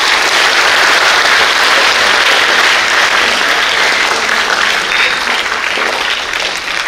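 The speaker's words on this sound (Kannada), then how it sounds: "ಒಂದ್ಸಲ ಜೋರಾಗಿ ಚಪ್ಪಾಳೆ ಹೊಡೀರಿ." A large group of schoolchildren at a school event claps loudly and continuously, a dense, even roar of hands that holds steady and fades only slightly at the close.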